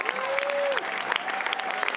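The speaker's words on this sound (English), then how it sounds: "please give a round of applause to Mr. Bill Chott, my roast master." Brief burst of audience applause at a birthday roast as the roast master is introduced, crowd clapping with a sustained tone and scattered voices mixed in.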